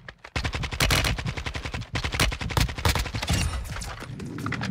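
Rapid bursts of automatic gunfire in a Call of Duty Warzone match, loud and dense, with repeated volleys and a brief pause midway before firing resumes.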